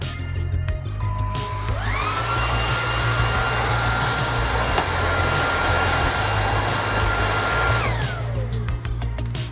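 A Redroad cordless stick vacuum cleaner whirs up to a steady high-pitched motor drone, holds it evenly close by for several seconds, then spins down, with no talking.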